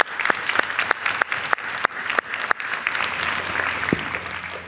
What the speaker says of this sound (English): I hope if you ask all of you for a round of applause for 4 speakers that made it here today